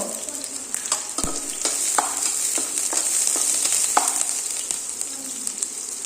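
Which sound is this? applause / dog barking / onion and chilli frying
onion and chilli frying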